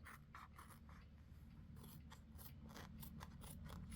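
Scissors snip repeatedly through material for a shibori collar pendant bead project, a close, crisp series of cuts with steady rhythm and no talking.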